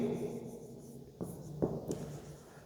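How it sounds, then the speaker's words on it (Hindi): Chalk or a marker writes on a board during a math lesson, giving a few soft, brief strokes and taps over quiet room noise. "यहाँ पे लिखेंगे"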